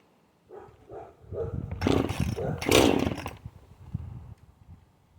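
Older Poulan Pro chainsaw after a carburetor replacement, a few sputtering pulls before the engine briefly catches and revs loudly up close, then drops back to a rough, fading idle.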